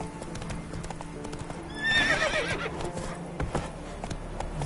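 A horse in The Witcher video game, with close, steady hoofbeats throughout and a loud whinny breaking in partway through.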